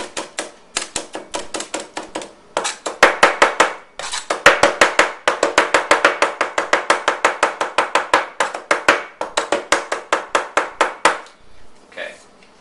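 Garlic being finely minced with a knife on a cutting board, a fast run of crisp, close chopping taps in steady bursts, with a brief pause partway through.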